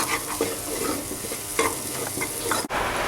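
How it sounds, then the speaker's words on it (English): Onions sauteing in a pan for rogan josh, with a steady close sizzle and frying crackle, broken by a few scraping stirs and a brief cutoff near the end. "we'll saute them until they turn golden brown in color"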